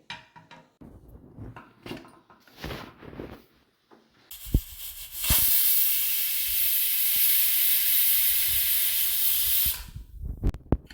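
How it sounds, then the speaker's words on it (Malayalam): After some clattering, a pressure cooker of chicken curry releases a loud, steady hiss of steam for several seconds, then stops abruptly, followed by a few clinks. "ഇനി ഇത് നമുക്ക് അടച്ചു വെച്ച് ഒരു വിസിൽ വരുന്നത് വരെ വെയിറ്റ് ചെയ്യാം"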